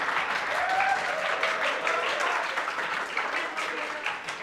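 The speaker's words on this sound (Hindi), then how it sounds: "सभी सांसदों ने ऐसे ही तालियां बजाई" Parliament members break into applause, a full crowd of hands clapping steadily for several seconds, with faint voices underneath as it gradually eases off.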